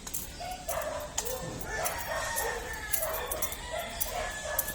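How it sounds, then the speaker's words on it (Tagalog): Several dogs in a residential neighborhood bark repeatedly at a moderate distance, overlapping in an irregular chorus, with a rooster-like call and background noise mixed in. "Ang daming aso sa amin. Ang ingay."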